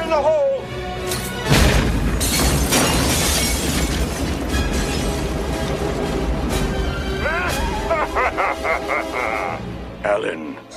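A loud explosion bursts out after a shouted warning, a sudden broadband boom followed by crashing, shattering debris and a long rumbling tail, with voices and chaotic action sounds continuing throughout.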